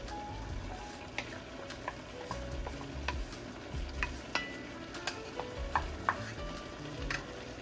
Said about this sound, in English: We're gonna brown this and cook this all together.